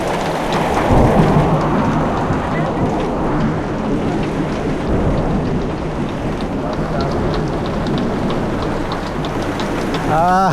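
Heavy rain pours steadily on a leaking roof, a dense continuous hiss with a low rumble of thunder rolling underneath, loud and close throughout.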